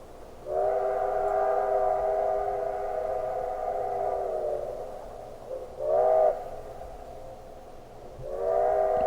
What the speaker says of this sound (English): the era of the steam whistle, lovely as the rural solitudes into which it blended.